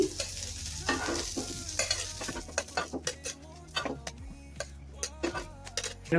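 Brinjal slices fry in oil on a hot tawa, a steady close sizzle under repeated sharp scrapes and taps of a spatula turning the pieces.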